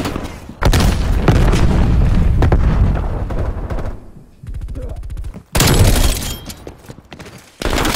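Loud explosions and rapid gunfire in a Call of Duty Black Ops Cold War multiplayer match, heavy booms and bursts of shots with brief gaps, a grenade blast among them, under occasional game voice callouts.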